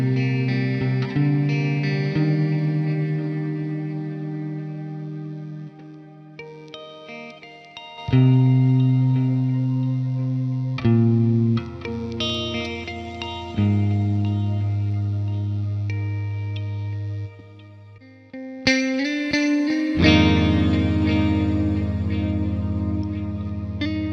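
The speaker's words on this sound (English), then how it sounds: "Give the shimmer a go, maybe cut some lows out of the reverb and let some more highs in" Clean electric guitar through the Neural DSP Archetype Gojira plugin with shimmer reverb, sustained chords played alone and ringing out in long, lush chimey tails, each new chord entering over the fading wash.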